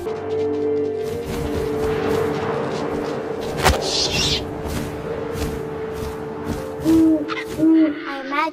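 Owl hoots sound inside the game What Remains of Edith Finch, set over a steady wind-like ambience, with a couple of clear mid-pitched hoots late on and a dull thud near the middle.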